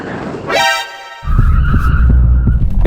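BMW tyres skidding while the car understeers: a loud rising tire squeal, then a roaring engine under sustained scrubbing squeal, close and intense.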